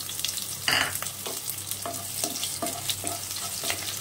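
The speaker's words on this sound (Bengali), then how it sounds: "পেঁয়াজটা হালকা ভাজবো, বেশি ভাজবো না।" Sliced onion and chopped ginger fry lightly in a pan for an oats pulao, giving a constant close sizzle punctuated by regular spatula scrapes and taps.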